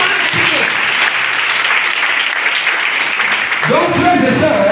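A church congregation claps in sustained, dense applause that fills the room, with voices rising over it toward the end.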